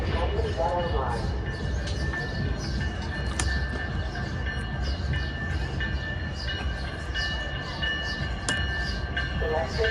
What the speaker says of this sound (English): Electric Mainline train number 134 to Millennium Station is now arriving.